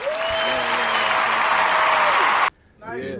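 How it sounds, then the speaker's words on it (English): A studio audience claps and cheers loudly for an arriving guest on a hip-hop talk show, a dense steady burst that stops abruptly, followed by a voice speaking. "make some noise for my homie. The homie, Laolu."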